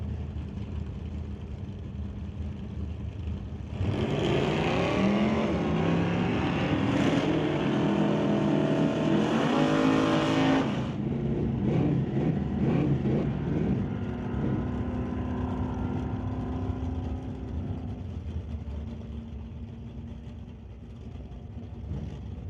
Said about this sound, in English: Kevin McCauley racing that old school Cutlass, facing off against Sean Langley's Hustler.